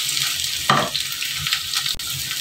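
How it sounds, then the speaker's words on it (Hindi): Vegetables sauté in a hot pan for Chinese-style egg fried rice, giving a steady close sizzle with a brief louder stirring scrape near the start. "तो बस इसको थोड़ा सा इसमें भून लेते हैं, थोड़ा सा सौते करना है"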